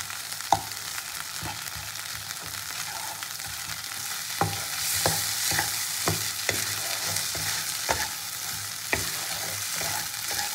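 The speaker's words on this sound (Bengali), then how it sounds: "মশলাটা ভালো করে কষিয়ে নিই" Spice masala for singhi fish curry frying in a pan, a steady sizzle with repeated sharp scrapes and taps of a spatula stirring, close and moderately loud.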